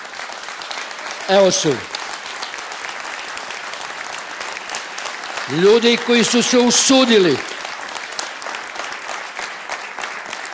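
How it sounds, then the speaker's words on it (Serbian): An audience fills the room with sustained applause, a dense rush of clapping that runs throughout beneath a host's voice, which comes twice. "Dajte da aplauz za njih dvoje."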